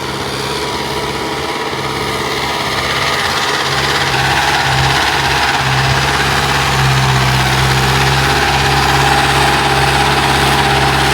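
A Mahindra CRDI 655 tractor engine, upgraded by 25 hp, revs under steady throttle, a loud continuous near drone with a slight rise in pitch partway through and no talking.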